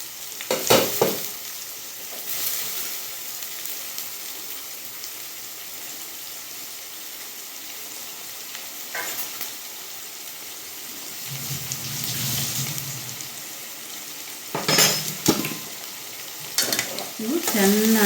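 Green chillies and onion frying in oil in a pan, a steady sizzle throughout with occasional louder clatters of stirring.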